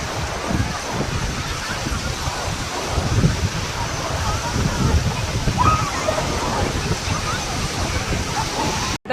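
Strong sea waves break on Puri beach, making a continuous loud roar of surf mixed with heavy wind buffeting against the microphone.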